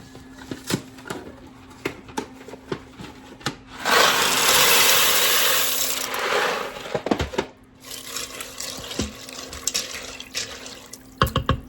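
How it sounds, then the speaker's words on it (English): A pound of dry elbow noodles poured into a pot of beef broth, a steady several-second rushing patter with scattered knocks and scrapes before and after, close and fairly loud. "And then you add 1 pound of elbow noodles."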